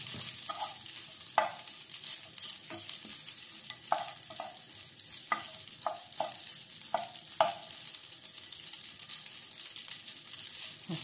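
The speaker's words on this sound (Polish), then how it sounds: "elegancko się smaży" Chicken and pasta fry in a pan with little fat, sizzling steadily while a spoon stirs and scrapes at an uneven rhythm, with about a dozen distinct knocks against the pan and no talking.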